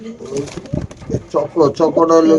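Racing pigeons coo in short, throaty, rolling bursts, loud and close, with several birds calling one after another over low background noise.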